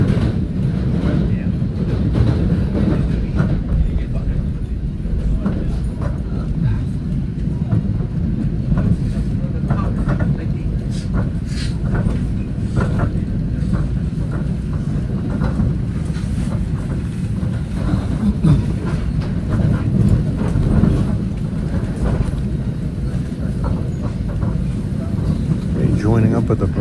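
An NJ Transit train on the Port Jervis to Secaucus run rumbles steadily along the rails near the Hackensack River, a continuous low roar with wind noise and faint clicks, heard from on board.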